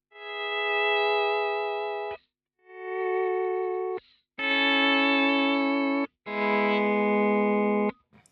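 Slide guitar played through a Kemper Profiler with no compressor, four long sustained chords that swell in and ring out, separated by short silences and carrying a natural reverb tail.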